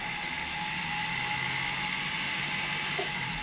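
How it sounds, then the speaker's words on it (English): A flex shaft burr cutting into metal while setting a diamond in an illusion setting, giving a steady, continuous high-pitched whine that runs evenly throughout at close range with no talking. "So we're going to come and cut this a little bit more with the flex shaft."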